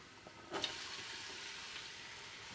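Red onion fries in a pot, a soft steady sizzle with a sharper stirring clatter near the start, then an even low hiss.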